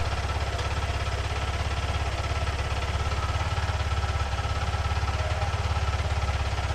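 A Yamaha R15 V2 motorcycle engine runs at a steady close idle after its spark plug is refitted, with an even rapid throbbing pulse and no voices.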